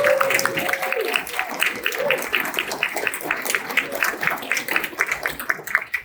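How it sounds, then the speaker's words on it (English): Audience at a school district State of Schools address applauds culinary students, a dense, steady patter of many hands clapping throughout, with a brief voice near the start. "Big round of applause."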